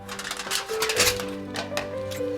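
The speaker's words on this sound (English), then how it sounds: "Take our tin foil, put it over the top a little bit" Tin foil crinkled and pressed over the top of a popsicle mould, a dense run of crackly rustling that stays close and steady, with a faint tonal hum underneath.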